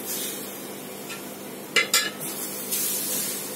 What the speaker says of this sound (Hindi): सब में मिक्स कर देना है ताकि ये थोड़ा सा भूने